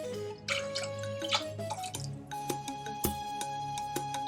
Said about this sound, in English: So we're going to add our 1 can of carnation milk.